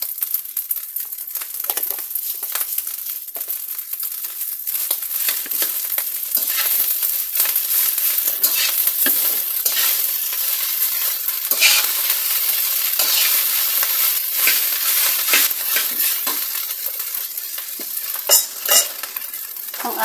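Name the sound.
stir-frying sinangag (garlic fried rice) in a pan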